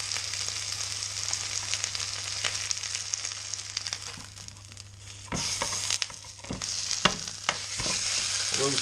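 Goat neck fillet searing in a hot pan for curried goat, a steady loud sizzle and crackle throughout with occasional sharper spits and stirring scrapes, no talking.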